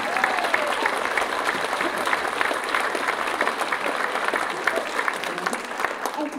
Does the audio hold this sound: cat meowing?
no